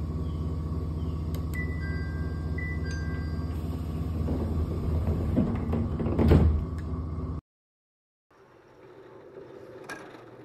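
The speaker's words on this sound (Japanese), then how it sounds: "ドアが閉まります。 ご注意ください。" Train doors slide shut with a whirring rush and a heavy thud at Kosaka Station on the Kosaka Railway in Japan, after steady cabin hum and chime-like beeps; a brief silence follows.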